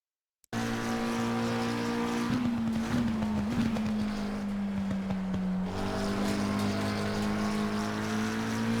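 A McLaren 720S EVO race car at Monza in Assetto Corsa Competizione, its engine running as a steady, loud, close drone. A short dip and wobble in pitch comes partway through, then the engine settles back to a sustained hum with no talk.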